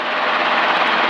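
Robinson R22 Beta II helicopter engine and rotor at reduced throttle during a training flight: a steady, loud broadband drone with no variation, heard alone.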